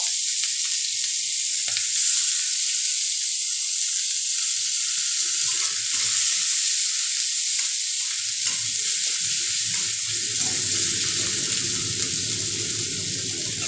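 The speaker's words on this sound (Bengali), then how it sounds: "এবার আমি এই তেলের মধ্যে একটা গোটা পেঁয়াজ কুচি করে কেটে নিয়েছিলাম সেটা দিয়ে দেবো" Chopped onion sizzles in hot oil in a home kitchen, a steady bright frying hiss with occasional stirring scrapes and a louder, fuller crackle building toward the end.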